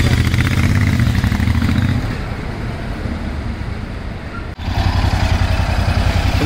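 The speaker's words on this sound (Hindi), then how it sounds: "तो गाइस हम ले रहे हैं इंटरसेप्टर 650 की टेस्ट ड्राइव" A Royal Enfield Interceptor 650 motorcycle engine rumbles loudly and steadily during a test ride, easing off briefly midway before picking back up, with no voices.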